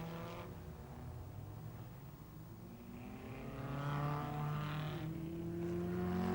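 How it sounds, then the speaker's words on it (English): Lancia Ferrari V8 racing cars run flat out at the 1957 German Grand Prix, their high engine whine rising and climbing in pitch as they draw nearer and grow louder across the clip. "Hawthorn and Collins flat out in their powerful Lancia Ferrari V8s."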